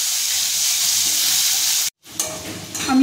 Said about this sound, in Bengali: আমি আলু লাল লাল করে ভেজে নিচ্ছি